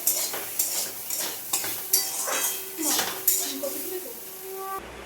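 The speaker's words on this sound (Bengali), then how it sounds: "এখানে সয়াবিনটা তুলে দিয়েছি, সয়াবিনটা ভেজে নেবো।" Soya chunks fry in a pan for veg biryani, with a spatula clinking against the metal in a steady rhythm over a continuous, close sizzle.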